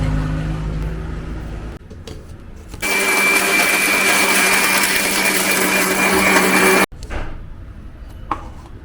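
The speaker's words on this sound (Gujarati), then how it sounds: "ચૂરમાનો થોડો ભૂકો કરીને કરવાનો એટલે સરખી રીતે ક્રશ થઈ જાય નહીંતર બિચારા મિક્સરમાં લોડ વધી જાય" Kitchen mixer grinder crushing churma, a loud steady whirring grind running about four seconds between quieter stretches of handling, stopping abruptly, with faint kitchen sounds around it.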